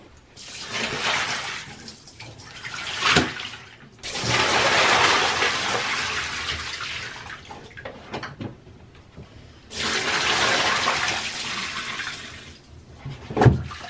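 Water runs steadily while thrifted leather bag pieces are rinsed clean, in two long rushing stretches broken by brief pauses and a few knocks and splashes.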